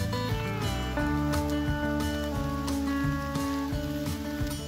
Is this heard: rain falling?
yes